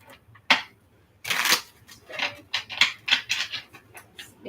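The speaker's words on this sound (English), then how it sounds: "Last shuffle." A deck of tarot cards is shuffled by hand in a quiet room, giving a string of crisp riffles and soft slaps in irregular bursts with short pauses between them.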